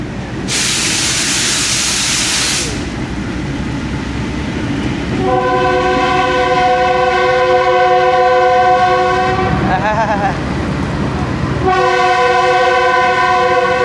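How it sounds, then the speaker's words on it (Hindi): A GU20 locomotive sounds its horn twice in stormy heavy rain, two long, loud harmonic blasts over the constant hiss of downpour and rumbling carriages. "तूफानी बारिश और उसमें GU20 का विजल"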